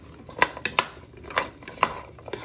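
Onions and winter vegetables tossed and shaken in a pot for soup, giving several sharp clatters and scrapes of food and metal at an uneven pace, close by with no talking.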